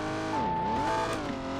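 An Alpine A110 rally car in a video game drones with a steady engine note that dips and rises briefly, like a short lift off the throttle, with no talk over it.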